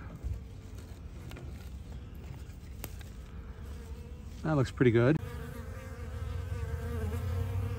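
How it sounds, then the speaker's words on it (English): A steady insect buzz of honey bees moving onto a new hive's landing board in cold, wet weather hangs over the scene throughout, with a brief spoken remark near the middle and a faint background hum. "some of the bees are already discovering the hive marching onto the landing board"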